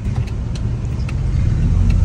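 Cars rolling past in a shopping mall parking area, a steady close engine and tyre rumble that builds slightly over two seconds, with no talking.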